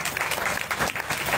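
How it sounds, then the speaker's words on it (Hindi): An audience claps together at a Bhagwat katha religious gathering, a dense, continuous burst of applause lasting just over a second. "हम सब ताली दो"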